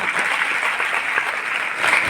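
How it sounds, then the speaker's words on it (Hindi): Seminar audience applauding steadily throughout, a dense, continuous clapping crowd that fills the room without pause. "एक बार जोरदार तालियां।"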